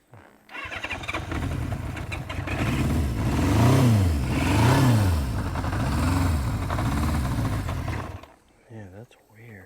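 A 1978 Honda CB550K motorcycle engine that will not take throttle revs up and down in slow, labored swells, rising and falling a few times at close range before cutting off, with people talking over it.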